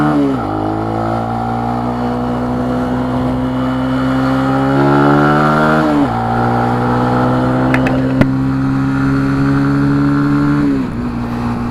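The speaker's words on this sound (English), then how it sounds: "Man, I love this exhaust." A Benelli TNT 135 motorcycle exhaust revs loudly and close by, its tone climbing through several rising pulls that each drop back before building again, with no talk over it.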